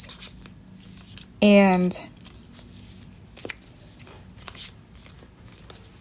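Cards, apparently a tarot deck, are shuffled in a single quick riffle lasting about half a second, set among a man's speech.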